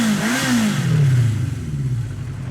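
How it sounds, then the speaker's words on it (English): An engine revs alone, its mid-pitched drone rising and falling over about two and a half seconds, loud and steady with a rattly edge and no talk. "let's start revving that engine"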